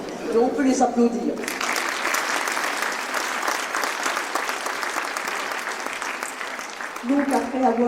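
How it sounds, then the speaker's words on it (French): Audience at a New Year's civic ceremony in Valdoie applauds steadily for about six seconds, a dense sustained burst of clapping that ends as a speaker resumes talking. "Et on peut les applaudir."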